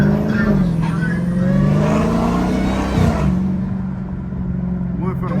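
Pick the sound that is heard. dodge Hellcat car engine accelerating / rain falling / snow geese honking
dodge Hellcat car engine accelerating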